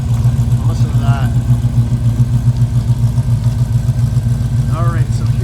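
A 1967 Chevrolet Camaro RS convertible with a 327 V8 runs steadily close by, a low rumbling idle continuing throughout, while a voice talks over it.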